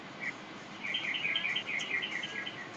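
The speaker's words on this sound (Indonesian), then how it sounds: "Nah, itu bunyi burung itu saya jelas itu." A faint bird chirping repeatedly in the distance, a quick series of thin high calls over a quiet background hum.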